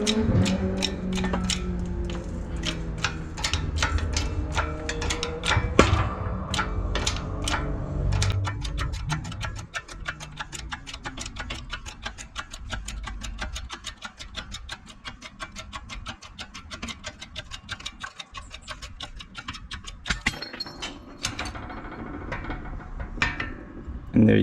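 An old bearing being pushed out with a hand-pumped press while repairing a bind, giving a steady run of mechanical clicks and ratcheting ticks that continues throughout at close range, with no talking.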